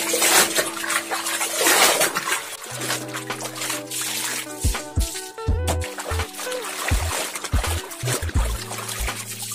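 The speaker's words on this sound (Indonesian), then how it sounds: "Langsung kita bilas aja untuk bilasan yang pertama ini." A T-shirt gets its first rinse in a basin of water, with sloshing, trickling and splashing as the fabric is swished and squeezed. The water sounds sit close, over a steady tonal hum.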